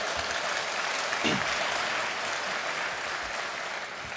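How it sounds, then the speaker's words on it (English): An audience at a sustainability event gives steady, moderately loud applause that holds evenly with no talk over it. "So again, big round of applause."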